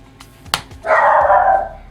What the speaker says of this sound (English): And there's my wonderful dogs.